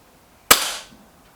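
A single sharp shot from an Artemis P15 air rifle firing QYS pointed pellets, a loud crack with a short decaying tail, then quiet.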